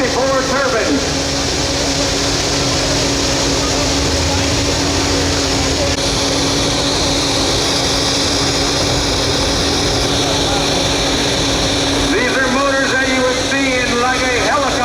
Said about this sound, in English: You got 3 General Electric C64 turbines.